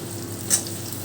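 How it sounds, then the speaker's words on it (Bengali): Steady sizzling of thin-cut potatoes frying with onions in a hot pan, with a brief scrape of stirring midway; no voices. "আলুগুলো দিয়েও একটু পেঁয়াজের সাথে নেড়ে ছেড়ে নেবো"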